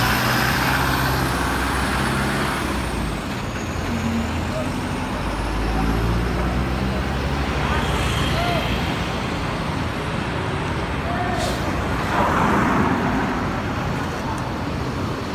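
Intercity buses pulling out and driving along a roadway, heavy engine rumble and road noise that rise and fall continuously, with a voice talking over the traffic.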